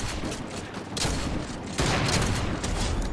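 Rapid bursts of gunfire in the shooter game Fortnite, dense overlapping shots in two or three loud volleys with brief gaps, no talking over them.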